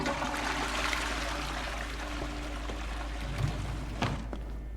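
A second toilet in Crime Scene Cleaner flushes and drains, a steady broad rush of water running throughout at moderate loudness, with a couple of soft knocks near the end and no voices.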